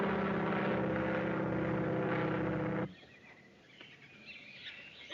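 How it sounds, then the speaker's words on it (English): A propeller airplane passes overhead with a loud droning engine hum that cuts off abruptly, leaving quiet outdoor ambience with faint bird chirps. "It's only an airplane."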